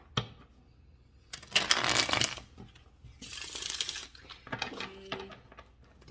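Tarot cards are riffled and shuffled up close in two main bursts of dry papery flutter, followed by softer sliding and tapping of the deck.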